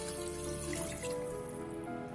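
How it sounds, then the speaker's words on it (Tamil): Water, three tumblers of it, pours steadily into a pot of chicken for a one-pot chicken pulao, making a continuous close splashing trickle for about two seconds with no talk. "அதுக்கு வந்து 3 டம்ளர் வந்து தண்ணி சேர்க்குறேன்."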